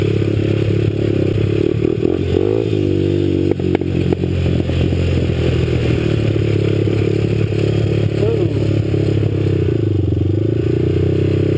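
A 1983 three-wheeler's engine runs steadily at a fast idle, a loud, close, continuous rattling drone with slight fluctuations throughout.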